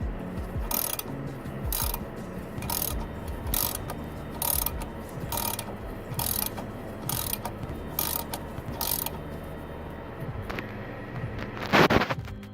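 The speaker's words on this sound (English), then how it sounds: "you may have to put a leverage pipe on here like this as you're turning to remove the pulley off" Repeated ratcheting clicks from a wrench with a leverage pipe slowly pulling the crank pulley off a Jeep 4.0L engine, a steady series of sharp mechanical bursts up close, ending in a louder metallic clunk.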